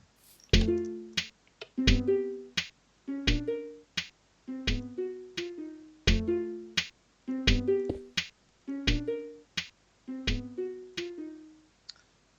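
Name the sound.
note block melody from a video game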